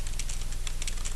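Keys tap rapidly and steadily on a computer keyboard while entering text into an Excel Online cell, close and fairly loud over a strong, constant pulsing hum.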